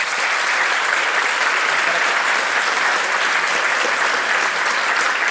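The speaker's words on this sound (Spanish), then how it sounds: "Un aplauso, por favor." Sustained applause from an audience at a live community gathering, a dense, even wash of clapping that holds steady and loud throughout without pause.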